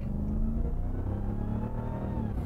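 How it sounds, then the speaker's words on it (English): A supercharged 2022 Dodge Ram 1500 TRX pickup rumbles close by, its engine revving with a deep, steady growl and no voices. "I love the sound of that supercharger, man."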